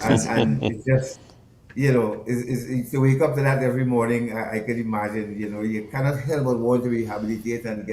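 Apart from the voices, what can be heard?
No everyday noises stand out.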